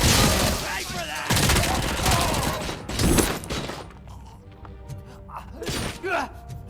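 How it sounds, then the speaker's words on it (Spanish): Dense gunfire bursts and impacts from the video game RoboCop: Rogue City, loud and chaotic at first, then thinning into scattered shots and clanks with game voices mixed in. "¿Quién me está disparando?"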